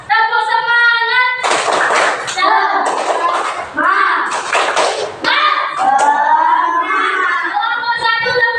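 Children in a classroom perform a rhythmic spirit clap (tepuk semangat), with loud, close bursts of patterned clapping broken up by chanting young voices and a teacher's speech.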